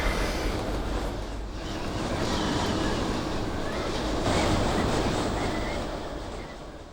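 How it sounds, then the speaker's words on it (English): Wind gusts across open ranch country during an afternoon deer hunt, a steady broad roar buffeting the microphone and swelling slightly before easing off. "it turned a little bit windy"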